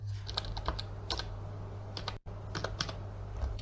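Quiet, close keystrokes on a computer keyboard while a CNC lathe program is written, coming in short irregular clusters with a brief silent gap midway and a steady low hum beneath.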